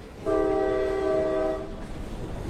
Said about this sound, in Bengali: একটা বিকট হর্ন দিয়ে মেন লাইন থেকে ট্রেনটা ছাড়ার সাথে সাথেই